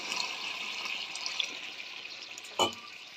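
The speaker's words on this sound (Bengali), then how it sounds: "একটু জল দিব" Water poured into a cooking pot of browned, thickened curry, a brief splashing gush with a bubbling, trickling hiss. A sharper splash comes near the end.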